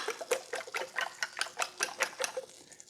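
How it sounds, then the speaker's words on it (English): Eggs seasoned with pepper are whisked briskly in a bowl, giving a quick, even run of about a dozen light clinking strokes, close and fairly quiet. "Want it good and whisked."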